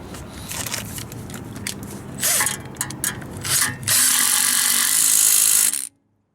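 Bolts tightened with a ratchet and 9/16 socket during brake work, giving bursts of close clicking and metallic clatter that build to a steady loud whirring rattle before stopping abruptly.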